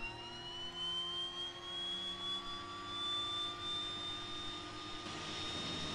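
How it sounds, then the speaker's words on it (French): Left engine of a DHC-6 Twin Otter starting up in the Prepar3D flight simulator: a steady turbine whine rises slowly in pitch over a constant hum, with no talk. "On démarre le moteur gauche."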